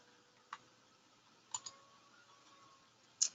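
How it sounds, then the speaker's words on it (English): Computer mouse clicks while navigating a web portal: a few sharp, isolated clicks, one early, a quick double click in the middle and a louder one at the end, over a quiet room hum. "By clicking on the hand icon,"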